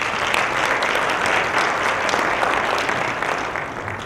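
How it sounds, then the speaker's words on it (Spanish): Sustained audience applause at a medical congress welcoming a doctor, dense and steady throughout at moderate loudness, with no talking over it. "Comenzamos con la doctora Rosaura Charleman, nos despertamos y la despertamos con un fuerte aplauso."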